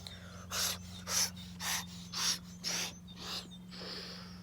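Rapid forceful breaths in a Nasarga Mukha Bhastrika yoga breathing exercise: about six sharp, airy breaths in a steady rhythm roughly every half second, close and fairly clear, then a softer sustained hiss, over a faint low hum.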